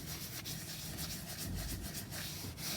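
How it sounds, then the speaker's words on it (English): Household paint rubbed into a paper bag journal by hand gives a steady, close, dry scuffing with soft repeated strokes, heard alone without talk. "I'm going to rub it in."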